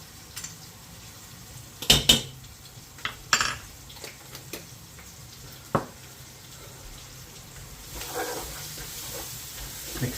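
Spices being stirred into butternut squash soup in a pot, with sharp clinks and scrapes of a utensil against the pot and a soft background sizzle, sporadic knocks spread over the stretch.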